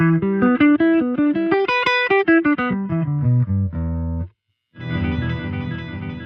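Clean electric guitar notes pick out a rising and falling arpeggio through a Line 6 Helix effects unit, shimmering through a chorus-like effect, then a brief silence before a wash of sustained, effected strumming.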